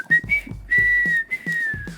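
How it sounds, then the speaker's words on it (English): A person whistles a short, wavering tune in several held notes broken by brief gaps, close and clear, with no other voices. "I taught myself to whistle when I was 19 years old."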